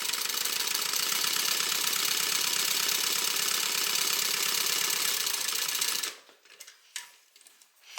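A sewing machine bastes the top edge of an evening bag closed, running in one steady, continuous stitching burst for about six seconds before stopping abruptly, leaving only faint handling sounds.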